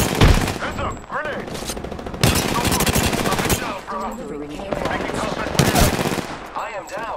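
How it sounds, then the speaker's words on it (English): Loud, close rapid-fire bursts from automatic weapons in a multiplayer shooter video game, repeated volleys with brief pauses between them, alongside other game effects. "The enemies are shooting at me."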